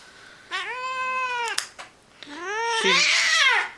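A fat cat yowls while held for toenail clipping, two long, loud, wavering cries separated by a short pause, close up and strained.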